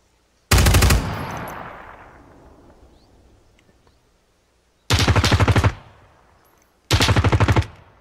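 Bursts of automatic gunfire from AI bots shooting out of windows in a shooter video game, three loud, sharp volleys with a long decaying echo after the first, separated by quiet gaps.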